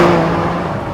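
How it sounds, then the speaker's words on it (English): Bugatti EB110 SS accelerating hard in fourth gear with its turbos coming in: a loud, close, sustained engine roar with a rising whir, heard briefly. "Throttle down, there goes the push. And here comes the turbos."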